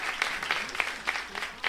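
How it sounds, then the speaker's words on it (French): Audience applause for a stage performer at a talent show, a short burst of clapping from a crowd, moderately loud and continuous with scattered sharper claps and no voices over it. "Je vous demande de l'applaudir chaudement, s'il vous plaît."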